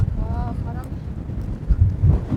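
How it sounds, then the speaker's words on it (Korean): Strong wind rumbles and gusts against the microphone at Suseungdae in Geochang, with a brief voice in the background near the start and louder buffeting toward the end. "바람 소리 들립니까?"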